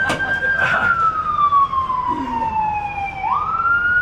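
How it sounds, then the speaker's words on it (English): An ambulance siren wails through Boston city traffic, its loud tone gliding slowly downward, then sweeping back up as the vehicle passes, over a low rumble of traffic. "That's 5 ambulances today that I have to move over for."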